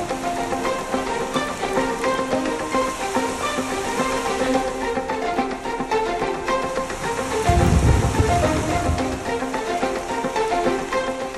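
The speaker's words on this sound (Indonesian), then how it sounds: "Hujan yang mengamuk perlahan jadi biasa saja." Heavy rain pours steadily on a muddy mountain trail, a dense, constant hiss with a low rumble of thunder swelling briefly partway through.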